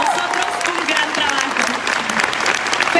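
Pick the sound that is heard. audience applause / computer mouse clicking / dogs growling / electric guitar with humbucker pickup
audience applause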